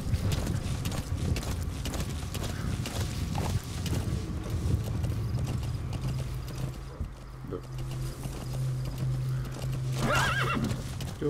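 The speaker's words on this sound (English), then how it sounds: "Go, horse, go." A horse gallops in Metal Gear Solid V: The Phantom Pain, hooves pounding in a fast steady rhythm up close, then a loud neigh breaks through near the end.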